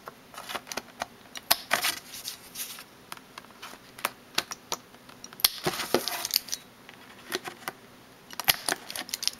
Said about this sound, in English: you want to take your corner rounder punch and punch holes